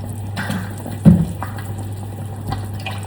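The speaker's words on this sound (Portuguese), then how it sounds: "vou adicionar um pouco mais de água, do caldo do pato" Duck broth is poured into a pot of rice, giving a wet liquid splash and gurgle with one louder burst near the middle, heard close over a constant low hum.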